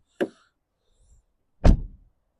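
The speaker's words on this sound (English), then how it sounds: "It's got that solid thump when you close the door." The rear door of a 2006 BMW 320d SE shuts with a solid, deep thump. It follows a brief, lighter click from the latch or handle a moment earlier. No voices are heard.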